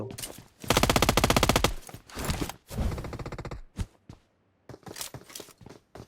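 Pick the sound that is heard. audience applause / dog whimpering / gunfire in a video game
gunfire in a video game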